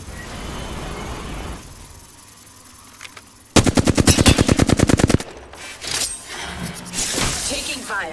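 Apex Legends gunfire: a rapid burst of loud automatic shots about a second and a half long, followed by shattering and scattered impacts, with game voice lines heard around it.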